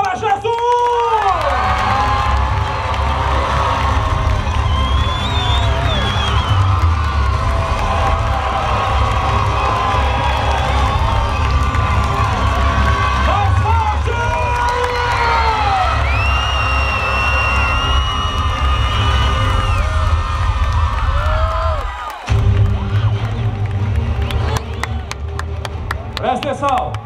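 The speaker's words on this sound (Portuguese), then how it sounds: "Uma salva de palmas para Jesus!" A large crowd at the opening ceremony of a church youth camporee cheers, whoops and applauds continuously, with children's shouts mixed into the loud, sustained roar and a brief dip before the noise resumes.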